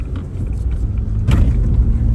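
A Ford Ranger pickup accelerates on a track, its engine a low steady rumble that swells slightly partway through the short burst.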